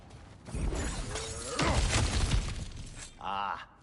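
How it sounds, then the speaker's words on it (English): Objects smashing and shattering during play in God of War Ragnarök, with crunching, breaking debris in bursts and a short whirring, ratchet-like mechanism at the end, loud and close amid game noise. "back to smashing through things for fun and profit."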